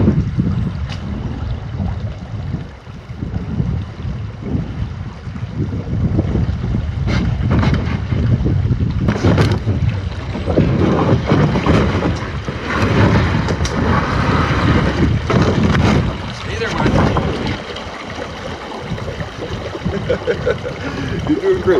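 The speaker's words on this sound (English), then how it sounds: "Sounds like that's either wind or a bigger waterfall coming." Steady broadband rush of wind or distant falling water heard from a canoe on an overnight river trip, a continuous roar with gusty swells throughout, close wind buffeting on the microphone.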